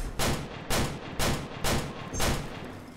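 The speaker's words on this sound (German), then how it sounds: "ich kann die Schüsse auch abwehren" Gunfire in the Crystal Raiders VR game: five loud, evenly spaced blasts about half a second apart, each a sharp broadband crack with a short decaying tail, with no talking over them.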